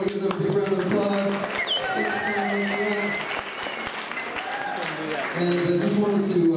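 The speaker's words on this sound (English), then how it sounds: "I want to give them a big round of applause" A stand-up comedy audience at a mental health show gives a round of applause, with steady clapping running beneath a voice that keeps talking over it.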